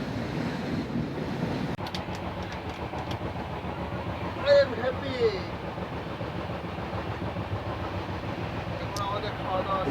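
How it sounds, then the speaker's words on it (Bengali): A train runs along the railway line at Farakka beside a road, giving a continuous rumbling roll with wind noise over the microphone and a few brief higher squeals partway through. "এই একদিকে রোড যেখান দিয়ে গাড়ি যাচ্ছে আর লাইন দিয়ে যাচ্ছে ট্রেন"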